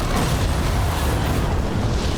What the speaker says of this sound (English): And you can jump off it and it detonates.